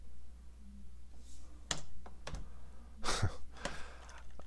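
Keys tapped on a computer keyboard to enter a search while reviewing Robo Linux: a few scattered close clicks and short bursts of typing in a quiet room, without speech.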